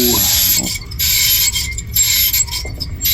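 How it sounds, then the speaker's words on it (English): A make-up air unit's large electric motor, belt removed, running with a strained, uneven whine and a rough mechanical rattle that surges and dips up close, loud and alone. "listen to this motor. It doesn't sound happy"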